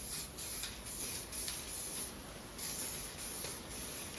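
An aerosol spray paint can puts down light coats in a garage, producing a faint, steady hiss in several short bursts separated by brief pauses.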